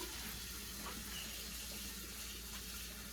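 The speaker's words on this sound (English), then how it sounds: "what you're going to do is fill your big pot with the hot water" Hot tap water runs steadily into a big cooking pot, a constant close rushing and filling sound with no pauses.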